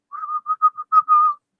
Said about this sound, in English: As we all know, puckerless whistle is no whistle at all.